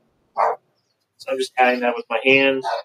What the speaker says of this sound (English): barking at something. That's my dog.